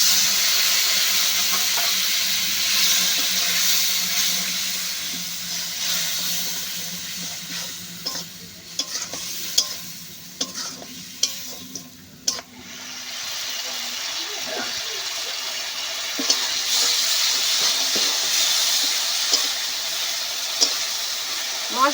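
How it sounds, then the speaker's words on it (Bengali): Water splashed onto spices frying in oil for a cabbage and prawn curry, giving a loud, close, sustained sizzle with bursts of steam and stirring, then a few sharp clinks of a utensil, while a person talks. "মশলাগুলো যাতে না পুড়ে যায় তার জন্য একটু জল দেব।"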